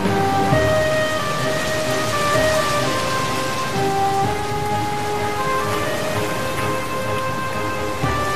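Steady, heavy rain pours down in a dense, continuous hiss, with faint tonal sounds drifting through the background.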